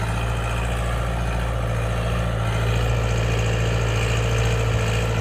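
A Lovol 504 tractor pulling a two-furrow plough drones steadily and loudly at about 1500 rpm, a constant low pitch and continuous heavy rumble with no pauses.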